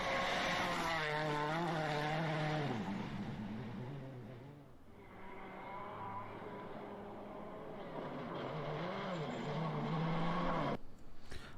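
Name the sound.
Proton R5 rally car driving fast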